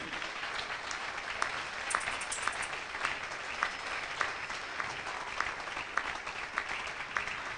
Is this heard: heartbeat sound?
no